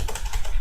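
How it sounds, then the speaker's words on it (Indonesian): Rapid, close clicks of fingers typing on a computer keyboard, an unbroken burst of keystrokes. "Jadi aku ngetik"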